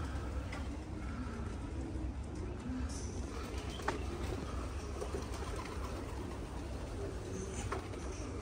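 Pigeons coo softly in a loft, joined by faint bird calls over a steady low background hum, with no talk nearby.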